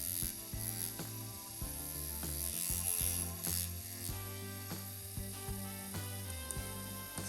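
An InkClaw tattoo machine runs on a Phoenix 1.0 wireless battery power supply, giving a steady mechanical whir with a rhythmic ratcheting buzz, close up and without any talk.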